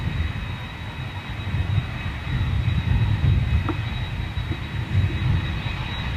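WestJet widebody jet with smoky CF6 engines passing, a low distant rumbling roar with a faint steady high whine, moderately quiet and continuous.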